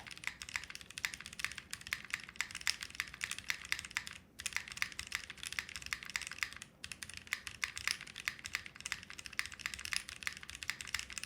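Close, fast typing on a keyboard with mechanical switches and flex-cut plate, a dense stream of crisp clacks with two brief pauses and no talking.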